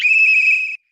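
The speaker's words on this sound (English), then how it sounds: "I just have to give you a whistle." A single sustained whistle from a person at an interview, steady and clear for under a second, then cutting off abruptly into silence.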